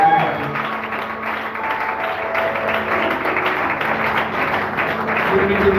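A church congregation applauding during a Sunday service, dense and sustained clapping from many hands filling the room, steady and fairly loud throughout with some voices mixed in.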